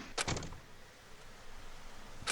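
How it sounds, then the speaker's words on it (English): A front door closes in the Danganronpa Lapse video game, a couple of quick knocking clunks at the start and another brief thud at the end over a low ambient hum. "I waited a few more minutes until I heard her front door close."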